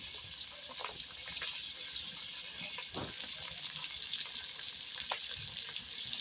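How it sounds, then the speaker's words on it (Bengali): Fish sizzles in a pan over a wood fire outdoors in a village kitchen, a steady, hissing, crackling fry that stays close and even throughout, with no talking. "মাছগুলো আগে আমি ভেজে নিই"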